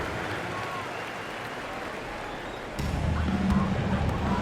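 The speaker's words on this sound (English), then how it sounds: "Another round of applause for your Blazers." Arena crowd applause in the basketball video game NBA 2K25, a steady wash of clapping and cheering that swells louder partway through, with faint talk mixed in.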